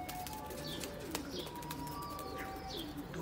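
A flock of ten Ferozpuri game pigeons coos softly at a distance against a loud, steady background hiss, with faint higher chirps scattered over the low murmuring.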